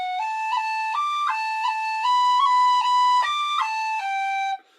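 Tin whistle playing a long roll on B in the jig Connaughtman's Rambles: bright, sustained notes broken by quick ornamental cuts and taps, played close and clear with nothing else heard.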